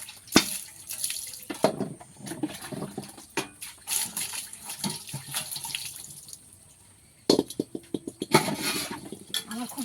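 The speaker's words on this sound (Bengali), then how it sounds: "এখন বাসন থালাগুলো মাজছি" Dishes and pots being scrubbed and rinsed by hand under running water, with splashing flow, clinks and scrapes coming in uneven bursts and a brief lull before the washing resumes nearby.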